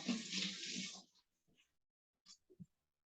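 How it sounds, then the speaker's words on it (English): A short burst of running tap water as radishes are rinsed at a kitchen sink, loud for about a second and then cut off, followed by a few faint drips and soft handling noises. "I'm going to just give them a quick rinse, just so I know that they're nice and clean as well."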